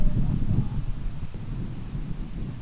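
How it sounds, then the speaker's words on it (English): Gusty wind rumbles low against the microphone on a golf course during a tournament's final round, steady and fairly loud, with faint rustling and no clear speech. "A windy day today, and the wind is going to be a factor"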